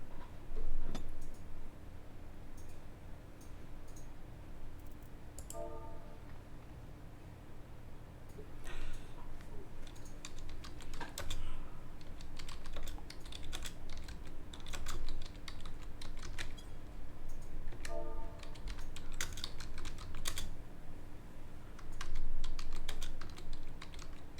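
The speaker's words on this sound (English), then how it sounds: "Gonna be typing out." Computer keyboard typing with irregular bursts of clicks running steadily throughout, close and moderately loud over a constant low hum, with faint background chatter from people waiting in line to play.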